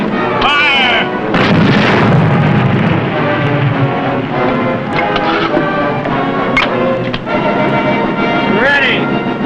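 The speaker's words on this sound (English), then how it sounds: "Fire 3 rounds! Ready! Fire!" Artillery guns fire rounds in a series of heavy booms and blasts, loud and close, with shouting voices and wind noise mixed throughout.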